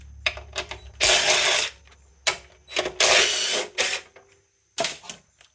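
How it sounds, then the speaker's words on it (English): Bolts being loosened on a Honda CT70 trail motorcycle engine with a ratchet, loud close bursts of rapid clicking ratchet strokes separated by short pauses, no talk. "we're going to take these bolts out. Just loosen this up here."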